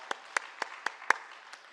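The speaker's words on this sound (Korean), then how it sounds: "우리 하나님께 영광의 박수 올려드립니다." A handful of sharp, distinct hand claps ring out at a church service in a Korean congregation, six crisp strikes spaced about a quarter second apart against a quiet background.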